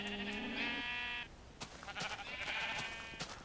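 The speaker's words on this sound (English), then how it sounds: "My sheep are so loud." Blocky sheep from the video game Minecraft bleat loudly in a long harmonic cry, followed by a few sharp clicks and a second wavering bleat, with no talking.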